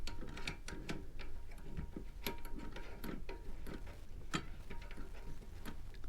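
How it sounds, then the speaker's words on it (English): A plastic nut on a toilet fill valve being unscrewed by hand, giving a close series of light, irregular clicks and ticks over a steady low background, with no talking. "But now we need to also remove this plastic nut. And that's what's going to release the actual fill valve."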